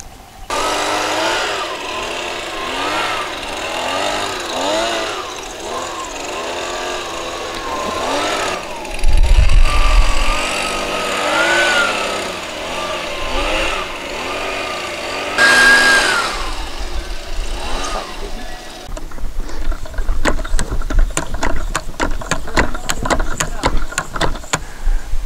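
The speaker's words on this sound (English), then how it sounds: "next we'll get up here with leaf blower, get all this debris off here" A leaf blower runs on an RV camping trailer roof, clearing debris and pine needles with a loud, fluctuating engine roar, close by, with rising and falling blasts and some rattling toward the end.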